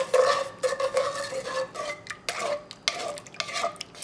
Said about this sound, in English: Mix until all this sugar is dissolved.